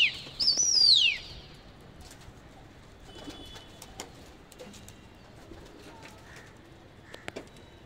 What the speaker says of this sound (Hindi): तीन चार कबूतर बच चुके हैं कबूतर बैठ नहीं रहे